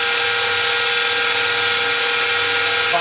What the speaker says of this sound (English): Now, I'm going to take what's called the skim cut.